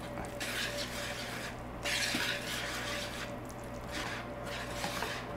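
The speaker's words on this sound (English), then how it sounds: "Don't over stir it." Honey butter cornbread batter is stirred by hand, wet ingredients folded into dry, giving soft, wet squishing strokes in repeated bursts with a steady low hum behind.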